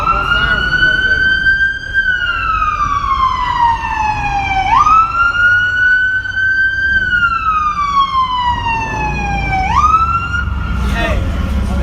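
An emergency vehicle siren wails in long rising and falling sweeps, loud, close and continuous, with a steady rumble of background noise underneath.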